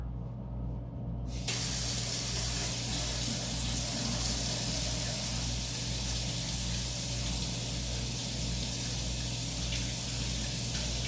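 Quiet room, then a sudden steady rush of lukewarm water pouring starts and continues hissing evenly, close by, with a low hum underneath.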